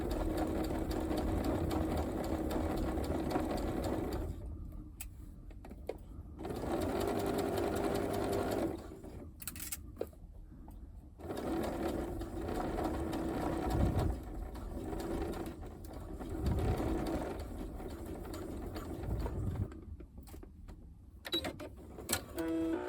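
A sewing machine runs basting stitches along gusset seams in several bursts of steady whirring, broken by short pauses and softer handling noises between runs.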